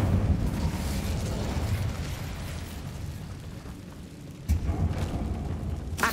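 An Incendio fire spell cast in Hogwarts Legacy, a roaring burst of flame and rumbling blasts that fade, then a sharp new burst near the end.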